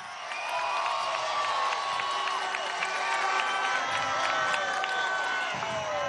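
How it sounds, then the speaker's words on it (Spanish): A large crowd at an outdoor commemoration rally applauds and cheers steadily, with shouts and whoops rising over continuous clapping throughout. "Denle un aplauso, pues."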